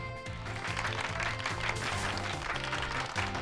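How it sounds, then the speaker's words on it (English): A round of applause during a Pokémon Violet playthrough, steady clapping that holds at an even level for several seconds while a low, stepping melodic pattern plays underneath. "Give her Pikachu a round of applause,"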